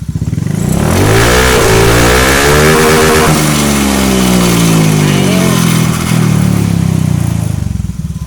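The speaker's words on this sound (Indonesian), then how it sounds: "Coba di gas Mas, kita gaspol ya." A Honda scooter engine, a Beat, Scoopy or similar injected model, is running without its battery fitted. It revs loudly and close by, rising and falling throughout, with the throttle held open for long stretches.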